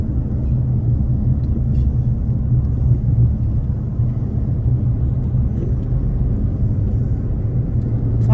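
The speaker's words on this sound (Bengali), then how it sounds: "কারগুলো চলে এসে ওভারটেক করে চলে যাচ্ছে।" Steady low rumble of cars passing and overtaking on a road in San Francisco, a continuous broad traffic drone at constant loudness with no talk.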